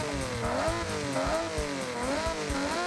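A car with its raspy stock exhaust in the racing game Forza Horizon 6, the engine droning and rising and falling in pitch as it revs, steady and moderately loud with no talking.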